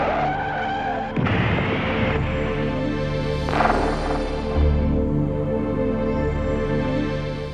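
A motorbike skids and crashes on a road, with a sharp screech and squeal of tires followed by a sustained scraping, grinding rumble that stays loud throughout.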